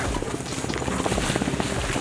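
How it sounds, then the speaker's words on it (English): A helicopter's rotor thumps steadily in a dense, rumbling roar, a loud continuous chopping pulse close overhead. "We got a chopper in the air."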